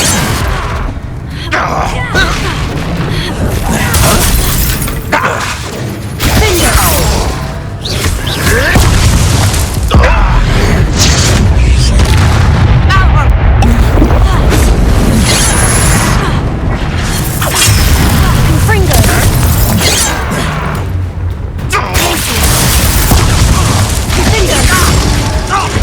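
Repeated blasting-spell explosions in the Hogwarts Legacy video game, loud booming bursts and thuds packed densely through a continuous, noisy combat mix, with a voice speaking over parts of it.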